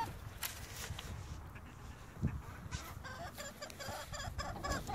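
Chickens cluck in a wooden pallet-run coop, soft and somewhat distant, with repeated short clucks building toward the end over low background noise.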